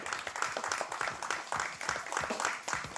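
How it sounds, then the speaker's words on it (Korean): An audience applauds to welcome actor Jo Jung-seok at a press event for the drama Two Cops, a dense, steady burst of many hands clapping at moderate distance for about three seconds. "자, 여러분 큰 박수로 환영해 주십시오"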